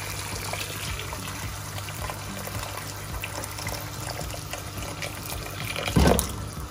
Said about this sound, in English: At this stage, I'll add water.